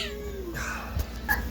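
Young kittens squabble, letting out a drawn-out wavering meow followed by sharp, brief cries and scuffling close by.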